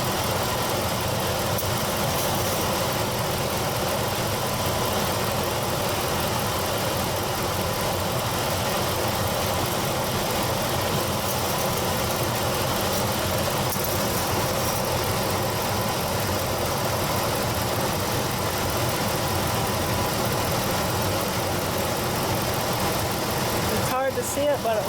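A 1997-2004 Ford F-150 engine idles steadily while warming up, a constant close rumble with even vibration throughout and a short disturbance right at the end.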